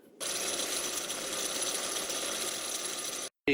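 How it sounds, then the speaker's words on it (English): A steady, high-pitched mechanical whine of a drill boring into an old steel file, running continuously for about three seconds before cutting off abruptly. "Now I gotta drill a hole in there."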